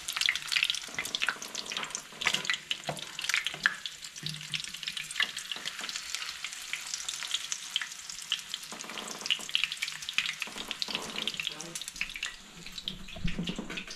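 Walleye fillets from Cameron Lake, BC bubble and crackle in a deep fryer, a dense continuous hiss of frying oil running steadily throughout with brief louder pops, close and with no talk over it.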